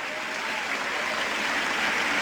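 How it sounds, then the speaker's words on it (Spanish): An audience applauding, a steady wash of many hands clapping at moderate volume, continuous and unbroken for a couple of seconds. "Qué lamentable escuchar a esas personas que están aplaudiendo la ignorancia."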